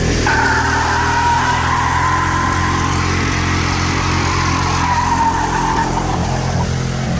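A Ford F-150 4x4 truck drives with its engine roaring loud and continuous, a close, sustained drone with a rising whine as it pushes on.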